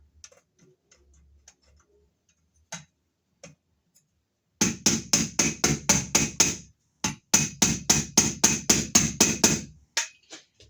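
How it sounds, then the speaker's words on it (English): A screwdriver taps a plastic outlet box cover into place in quick runs of sharp, evenly spaced knocks, two bursts of about ten taps each, close and loud against near silence. "I'll have to tap it in with my screwdriver."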